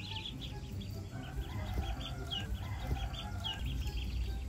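Small high-pitched duckling peeps repeat steadily throughout, fairly faint, over a low background rumble.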